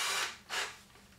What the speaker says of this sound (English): drill a hole in there